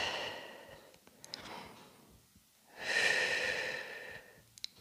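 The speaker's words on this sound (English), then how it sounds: "Nice big breaths." Deep, slow breaths during a Pilates hip flexor stretch, a soft inhale followed by a longer, fuller exhale, close and fairly quiet with no talking.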